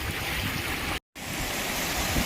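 Rushing floodwater covering a road and crop fields, a loud continuous broadband roar that is cut briefly by a short gap, then resumes at the same strength.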